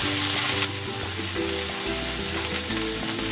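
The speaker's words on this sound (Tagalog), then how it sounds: "Igigisa ko na rin tong bagoong alamang." Bagoong alamang shrimp paste with onion sautéing in a pan, giving a steady, close, continuous sizzle of frying with faint stirring, no voices.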